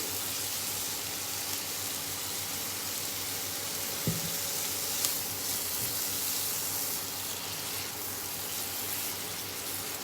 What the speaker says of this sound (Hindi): तो हम इसको सॉटे करेंगे अभी